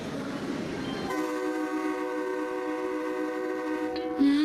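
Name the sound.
train departing from a station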